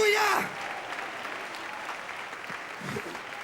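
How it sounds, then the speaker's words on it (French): A church congregation claps in a burst of applause that continues steadily at moderate volume, following a brief voice at the very start. "fort l'applaudissement pour le Seigneur"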